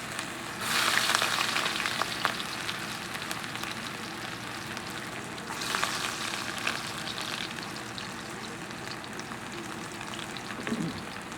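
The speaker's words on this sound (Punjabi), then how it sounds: "ਇਹਦੇ ਵਿੱਚ ਹੁਣ ਮੈਂ ਅਦਰਕ ਤੇ ਲਸਣ ਇਹ ਇਕੱਠਾ ਹੀ ਮੈਂ ਜਿਹੜਾ ਲਾਲ ਕਰ ਲੈਣਾ ਅਦਰਕ ਲਸਣ ਦੋਨੋਂ" Ginger and garlic frying together in hot mustard oil for broccoli saag, a steady close sizzle with two louder bursts as pieces hit the pan, then a softer crackle that continues throughout.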